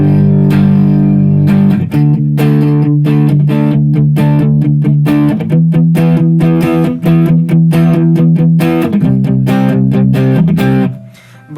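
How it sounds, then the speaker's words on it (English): Distorted electric guitar chugs through power chords in a 1-5-6-4 progression, with steady held chords changing every couple of seconds, loud and alone, with a brief drop near the end. "So I just used power chords"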